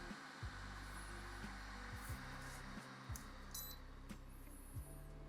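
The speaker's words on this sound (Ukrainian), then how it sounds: "Чуємо шум вентилятора" Cooling fan of a small unbranded mini PC running on a test bench, a quiet steady whir with low electrical hum and repeating low tonal steps, heard close and alone.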